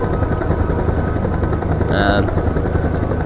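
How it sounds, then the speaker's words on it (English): A helicopter in the video game Homebrew Vehicle Sandbox drones with a steady chopping rotor hum throughout, loud and even, with a brief higher whine near the middle. "gotta land somewhere that's not the ocean, because this is a helicopter, not like a boat"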